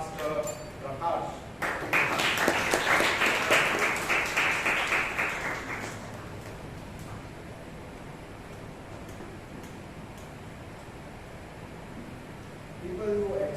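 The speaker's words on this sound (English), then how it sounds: "Please give a huge round of applause to Toastmaster Prakarsh." Audience applause at a Toastmasters club meeting in Bangalore, a burst of clapping that swells for a few seconds and then fades out into room noise, with a voice faintly at the start and end.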